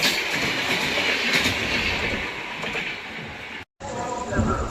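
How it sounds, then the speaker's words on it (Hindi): The Rewa Express runs through Etawah station at high speed without stopping, a loud, continuous roar with steady wheel clatter and rumble that cuts out sharply for a moment near the end before resuming. "कोई ट्रेन स्किप मार रही है इटावा को अच्छी खासी रफ्तार में। ये है रीवा एक्सप्रेस"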